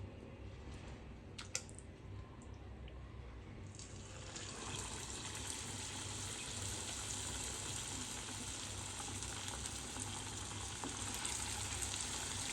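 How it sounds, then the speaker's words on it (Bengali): Chicken leg pieces drop into a pan of hot oil, bursting into a loud, steady crackling sizzle that continues unbroken after a few quiet clinks beforehand. "তেলটা গরম হয়ে গেছে, এখন আমি চিকেনটাকে ছেড়ে দেব এর মধ্যে।"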